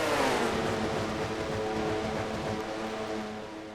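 Stock cars roar together during an oval race, a steady dense engine drone with a sweeping pitch, moderately loud and continuous with no talk.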